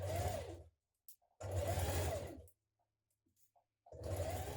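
A sewing machine topstitches a slit on a blouse sleeve in three loud, steady bursts of whirring stitching, separated by short silent pauses with faint clicks of handling.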